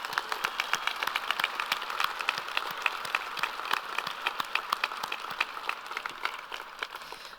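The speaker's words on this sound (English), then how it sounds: "Please give yourselves and each other a round of applause." A room of attendees at a service recognition luncheon claps for honorees, a steady, dense patter of many hands at moderate distance that continues evenly without voices.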